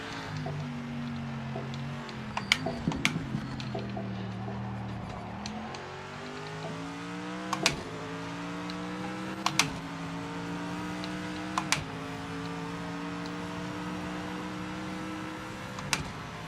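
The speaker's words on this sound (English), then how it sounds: "The gears sound a bit sick too when I'm shifting. Sounds real clunky." A car engine in the racing game PMR drones and climbs in pitch, dropping abruptly at each of several shifts, with sharp clunking knocks and clicks at the gear changes in the damaged car.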